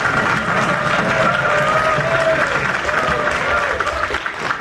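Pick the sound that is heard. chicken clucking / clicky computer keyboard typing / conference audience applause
conference audience applause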